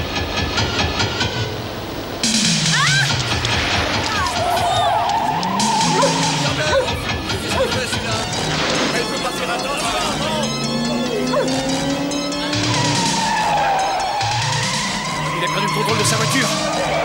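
A car skids out of control with repeated loud tire squeals and screeches over a rumbling engine, in bursts across a chaotic stretch mixed with other mechanical clatter.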